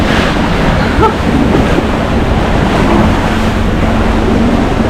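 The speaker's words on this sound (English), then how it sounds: "these waves are just about breaking too" Rushing ocean waves wash and nearly break around a sailboat crossing the Indian Ocean, with steady wind buffeting the microphone and a continuous roar of surf and water.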